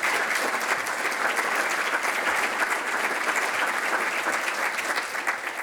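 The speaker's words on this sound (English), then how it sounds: "let's give them a round of applause" A forum audience at a physical and mental wellness event claps together in a dense, even round of applause that holds steady for several seconds before tapering slightly at the end.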